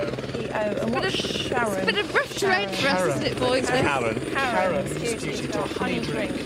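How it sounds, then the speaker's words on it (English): Helicopter rotor and engine drone running steadily throughout, close and loud, with several people talking continuously over it during a treasure hunt in Christchurch, New Zealand. "That's the helicopter."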